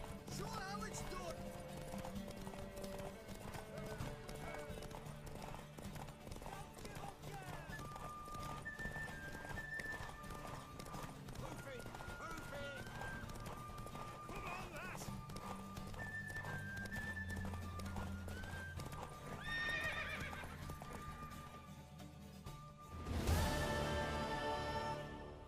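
Horse hooves clip-clop at a run in The Witcher 3, with a mare whinnying and snorting near the end, set against steady game music and ambience while voices talk over it.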